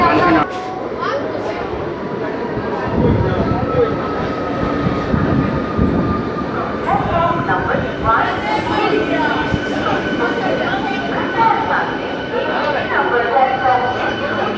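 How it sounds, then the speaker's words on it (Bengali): A Howrah–Bardhaman local train rumbles loudly into Belur station platform, wheels clattering and brakes squealing faintly, with voices of a crowd murmuring underneath. "হাওড়া বর্ধমান লোকাল বেলুড় প্ল্যাটফর্মে আসছে, এতে আমরা উঠব।"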